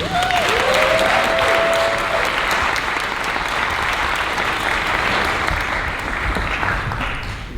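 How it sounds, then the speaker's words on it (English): Loud, sustained applause from a large audience, with a few whoops near the start, holding steady throughout. "please give a round of applause"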